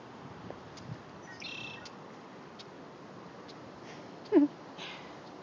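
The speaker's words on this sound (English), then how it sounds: "the birds are going to start singing" Faint, sparse bird chirps scattered over a steady outdoor hiss by the Snake River in Idaho at sunset, with one brief louder call near the end.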